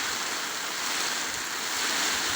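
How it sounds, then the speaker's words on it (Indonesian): Stormy sea waves roar against the boat of Ujung Kulon fishermen under the strong west wind, a dense, loud and continuous wash of surf and wind noise with no break or lull. "badai di laut ini"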